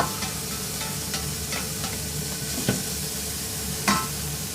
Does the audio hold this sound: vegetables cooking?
yes